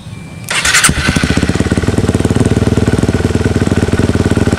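A motorcycle engine with a Juken 5 ECU restarts after a brief quiet stretch: a sharp starter burst, then a loud, close, steady idle with a rapid, even pulsing beat that continues to the end.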